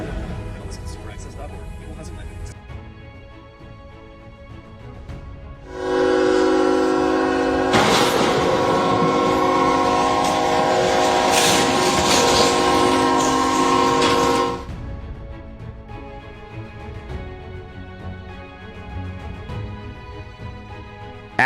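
A high-speed train roars past, loud and close, with a blaring horn sounding for several seconds before the rush fades into quieter background noise.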